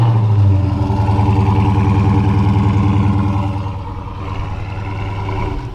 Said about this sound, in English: That has a really good sound. Who doesn't love a Hemi V8?